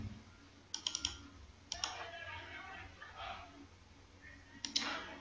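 Sharp clicks from a computer mouse and keys come in small clusters, close and quiet, while someone speaks in Hindi over a faint room hum as he fills in a website form.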